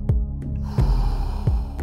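Deep, rhythmic breaths during a slow-paced Wim Hof breathing exercise, with sharp nasal intakes and exhales repeating roughly every 0.7 seconds, close and fairly loud with no speech.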